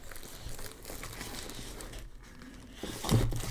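Sturdy packaging material for an XPG Starker Air being crinkled and handled during an unboxing, a steady close rustle with a louder crunchy burst near the end.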